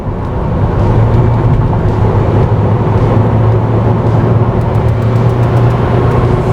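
A Mitsubishi Xpander engine hums steadily under acceleration, heard from inside the cabin as a loud, even, low drone with road rumble and no talking.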